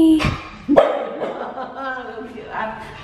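A dog lets out two sharp, loud barks close by at the start, followed by softer grumbling and whimpering while people talk gently over it.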